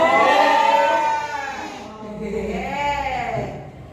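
Two drawn-out, quavering bleats from a goat, close and loud, the second slightly lower and shorter than the first.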